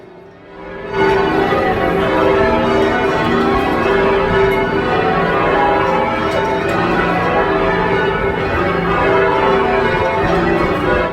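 A loud, sustained peal of church change-ringing bells rings in rapid overlapping sequence after a brief quiet start, a dense ringing texture with no speech.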